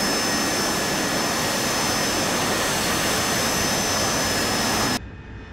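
A Harrier jet in a flight simulator game, its engine roaring in a steady, dense broadband rush while gaining speed on takeoff, then cutting abruptly to a quieter hum.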